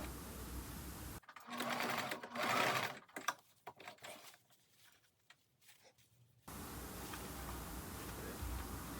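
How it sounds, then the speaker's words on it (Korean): Sewing machine stitching pieces of a hoodie parka coat, a close, rapid mechanical chatter running for about five seconds between stretches of steady background hiss. "이 부분을 먼저 연결을 해서 박음질을 합니다"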